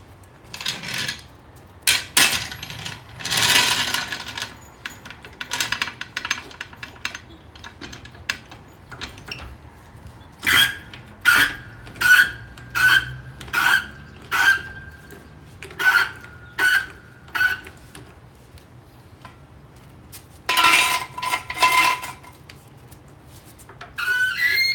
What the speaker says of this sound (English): Okay, so that scraping's still happening, but it is a million times better. But I guess we'll just grind it some more.